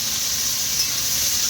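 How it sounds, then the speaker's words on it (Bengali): Red amaranth greens with lentil dumplings, chillies and onion fry in a pan with a steady, even sizzle and hiss, close and continuous with no talking. "এটা বড়ি দিয়ে লাল শাক ভাজা হবে।"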